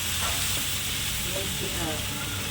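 Steady, dense frying sizzle of flattened rice in a pan, with occasional scraping as it is stirred; close and continuous throughout.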